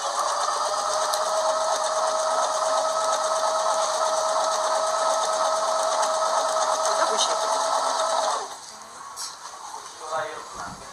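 A Pfaff domestic sewing machine stitches fabric in a steady, continuous whir for about eight seconds, then stops, leaving quieter handling noises.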